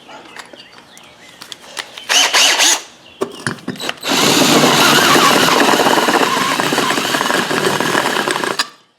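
A power drill with a hole-cutting bit whines in short bursts, then runs loud and steady for several seconds with a gritty, grinding tone as the bit cuts through material.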